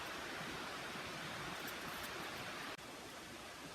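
Creek water at Big Creek in the Great Smoky Mountains rushes in a steady, dense broadband roar, close and unbroken, with no voices over it.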